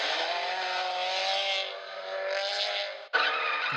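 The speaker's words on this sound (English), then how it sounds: "car, without warning, screeched into a U-turn." A car's tires screech through a sharp U-turn: a loud, sustained squeal over engine noise that eases briefly midway, cuts off just after three seconds, then abruptly resumes.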